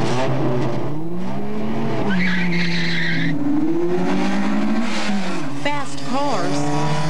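Street racing cars skidding and squealing their tires during a drag race, loud engine revving and repeated sharp tire squeals up close, with a voice talking over the noise.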